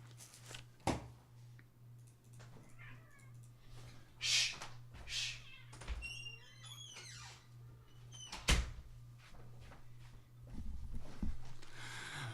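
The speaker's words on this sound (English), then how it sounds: "let's kick my cat out of the room because she's going ballistic" A house cat meows several times indoors, its short, rising cries scattered between faint room clatter and thumps, with no one speaking.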